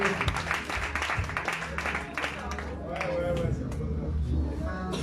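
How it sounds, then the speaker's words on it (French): A church congregation applauding during a French-language service, scattered claps and crowd noise mixed with a talking voice, fairly faint and under the speech. "On acclame."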